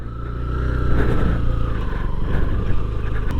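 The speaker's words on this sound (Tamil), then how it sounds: "இந்த இடத்துக்கு நாங்கள் பைக்கில் வந்ததால் பைக்கில் போகிறோம்." A motorcycle engine hums steadily and fairly loudly throughout, with a low droning rumble and slight surges in revs as it rides near the Belwood viewpoint in Kandy, Sri Lanka.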